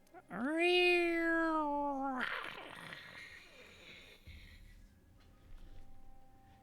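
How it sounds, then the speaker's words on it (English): A long, drawn-out cat meow, loud and close, then a breathy hiss-like noise that fades into quiet. "the sound of the hissing, meowing cat is lost soon"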